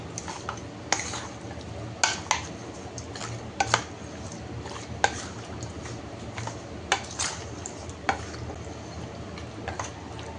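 Chicken pieces are mixed by hand with salt and seasoning in a bowl, giving a steady wet squelching and stirring with scattered clinks against the bowl, fairly faint and without talk.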